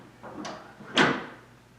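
A Vault Pro USA gun safe door swings open with a soft mechanical clunk followed by a louder metallic latch and door thump, close and fairly quiet in a still room.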